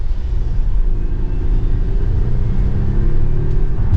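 A 2023 Volvo XC90 Recharge hybrid accelerating, heard from inside as a loud, steady low engine rumble with road noise and a faintly rising tone throughout.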